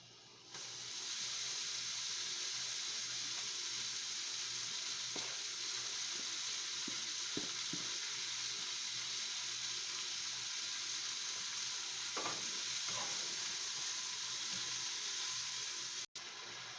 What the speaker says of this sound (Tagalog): ilagay na po natin yung ating pork, minced pork.